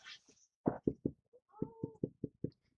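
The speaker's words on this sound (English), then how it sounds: "I've got a cat over here who wants to interrupt the activities." A cat meows a few times in short rhythmic calls, close by, with one longer drawn-out meow in the middle.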